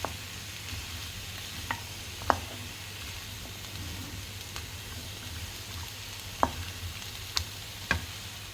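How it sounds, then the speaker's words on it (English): Bell peppers and chopped onion frying in a pan for chili, a low steady sizzle with a few sharp clicks and taps of a utensil stirring against the pan. "So we're just going to fry this off so that the peppers soften and the onions become more translucent."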